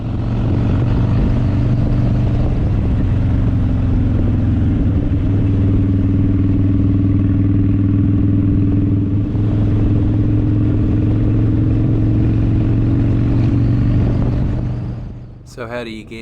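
A motorbike ridden along a road in South Auckland toward Manukau Heads, its engine droning steadily and loudly close by with wind rush, easing off near the end.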